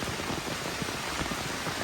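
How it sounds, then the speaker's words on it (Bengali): Dense, steady rainfall patters continuously, a soft even hiss of drops hitting surfaces at moderate distance, with no voices. "এত জোরে বৃষ্টি হচ্ছে আর কন্টিনিউয়াসলি হয়েই যাচ্ছে"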